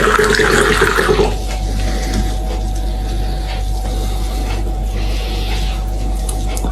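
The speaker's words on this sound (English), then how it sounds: "Here we go, let's pour a glass, see what it looks like." Homemade kit wine runs from a tap into a glass in a steady liquid stream that stops after about a second, leaving a low constant hum.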